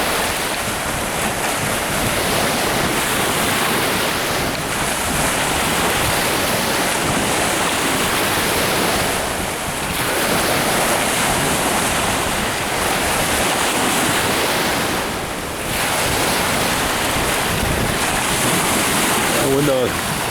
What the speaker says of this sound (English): this is just the wind turning the tide